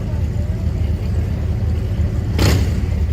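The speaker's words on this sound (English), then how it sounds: "There's one motorcycle. You can hear it?" A motorcycle engine passes by the lake at night: a steady mid-pitched engine rumble heard at a distance, rising briefly near the end.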